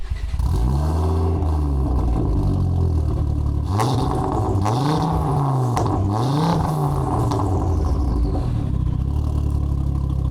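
A Ford Focus RS Mk2 with 430 hp through the front wheels idles loudly up close, its engine note rising and falling in several blips and revs.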